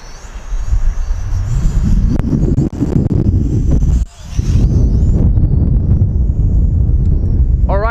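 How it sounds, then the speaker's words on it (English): Strong wind buffets the microphone during a windy outdoor test flight of a TIANQU XS809W quadcopter, a loud low rumble that drops out briefly midway, with someone talking over it. "Yeah, the wind has picked up again."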